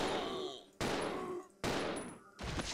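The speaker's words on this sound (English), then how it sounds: "And shoot him so he learns his lesson" Three heavy gunshots fired at a zombie in Resident Evil 0 HD Remaster, each a sharp loud blast with a ringing tail, spaced under a second apart.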